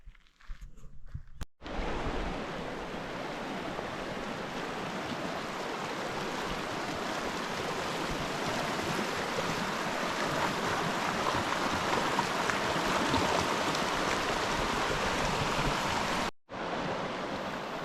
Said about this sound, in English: This is Desert Creek right here.